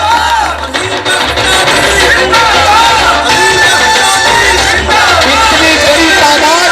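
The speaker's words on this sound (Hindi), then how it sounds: "आपकी भरपूर तालियों की गूंज में इस्तेमाल कीजिएगा हमारे एक मेहमान का।" Dense, loud crowd noise from the audience at a political meeting held at an independent candidate's house, a continuous wash of clapping and voices that fills the whole stretch.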